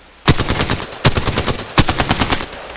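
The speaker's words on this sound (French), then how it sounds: "Ça c'est un pistolet mitrailleur." A submachine gun in the shooter game Apex Legends fires three rapid bursts, each a loud clattering string of close shots beginning with a sharp crack, following a quiet start.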